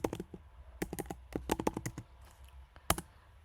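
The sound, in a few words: typing on a computer keyboard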